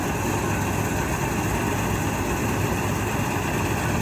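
A tractor engine idles nearby, a steady low rumble that holds at an even level throughout the short stretch with no voices.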